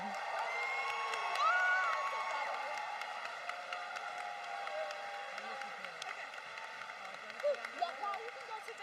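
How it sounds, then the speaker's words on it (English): A graduation audience at a 2022 high school ceremony gives faint, distant applause and cheering, a steady wash of clapping with scattered whoops that fades gradually over several seconds. "Let's give a big round of applause again for Tilahun Newman."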